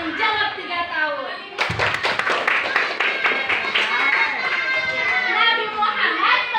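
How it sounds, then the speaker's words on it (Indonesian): Children clapping their hands together in a classroom, a burst of claps starting abruptly and continuing amid lively chatter and young voices. "Tepuk tangan buat yang jawab 3 tahun."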